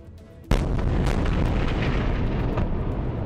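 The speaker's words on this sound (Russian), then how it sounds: "взрывы прогремели в Израиле" Explosions and artillery fire in Israel, a sudden heavy boom followed by sustained loud rumbling roar with further dull impacts, no voices.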